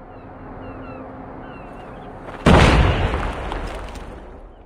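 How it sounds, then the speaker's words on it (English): Frag grenade exploding in Call of Duty Mobile during a search-and-destroy match, a single sudden loud boom that cuts through faint background game sound and then rumbles and fades over a second or two. "Frag out!"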